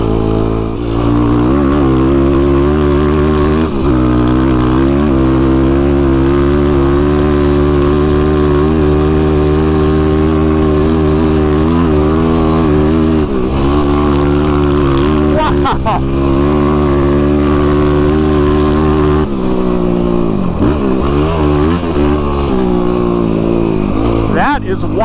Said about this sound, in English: That is YFZ power right there.